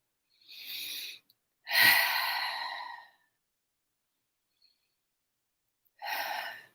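Close, breathy inhales and exhales during a breathing exercise: two airy breaths, a pause of near silence, then another breath.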